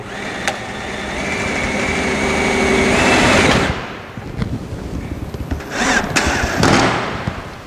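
A screw gun drives drill-point screws into double-corrugated roof tiles, a loud rising whir held for several seconds, then a pause with clicks before a second shorter burst, close and without talk.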